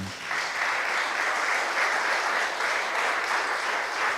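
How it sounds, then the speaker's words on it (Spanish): A church congregation breaks into steady, sustained applause that fills the room evenly from start to finish, heard on its own without talk over it. "Denle un aplauso al Señor."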